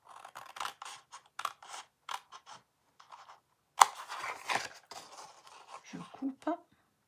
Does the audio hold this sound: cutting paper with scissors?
yes